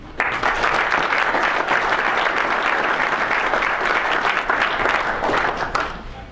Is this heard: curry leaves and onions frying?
no